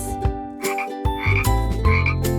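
A frog croaks repeatedly in short, throaty bursts, loud and close, with no other sounds around it.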